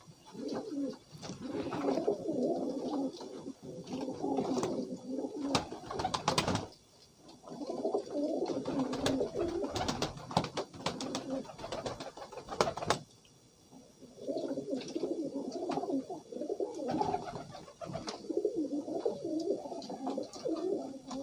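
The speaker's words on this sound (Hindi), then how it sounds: "ये कबूतर है," Pigeons coo repeatedly in soft, throaty bursts close by, with brief pauses between rounds and faint background clatter.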